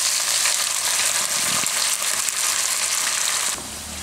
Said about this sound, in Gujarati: ભીંડો આપણે તેલમાં તેલમાં પાકવા દેવું ને ફેરવા રાખશું